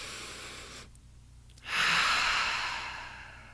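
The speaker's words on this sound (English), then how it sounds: "okay, just take a deep breath" A single deep breath: a short quiet pause, then a long, audible inhale-like rush of air that fades away slowly, close and alone.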